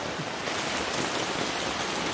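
Steady rain pours down in the Arizona backcountry in a dense, even hiss, close and continuous with no voices.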